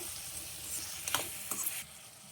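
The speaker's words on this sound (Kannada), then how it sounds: "ಈರುಳ್ಳಿ ಸ್ವಲ್ಪ ಗೋಲ್ಡನ್ ಬ್ರೌನ್ ಕಲರ್ ಆಗೋವರೆಗೂ ಫ್ರೈ ಮಾಡ್ಕೋಬೇಕು" Onions, salted to soften faster, fry in a pan toward golden brown for a dry fish gravy, giving a soft, steady sizzle with a few brief scraping stirs near the middle, fairly quiet overall.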